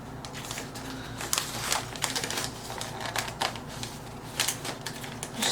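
Packaging from a rare-plant mail delivery being unwrapped and pulled apart, giving a continuous close crinkling and rustling with sharper crackles and taped paper tearing, no talking.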